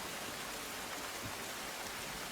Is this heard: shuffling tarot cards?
no